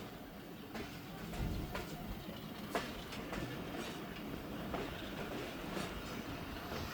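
The Thal Express passenger train runs along the rails at night, a steady rumble with rhythmic clickety-clack wheel beats over rail joints, heard from onboard at moderate loudness.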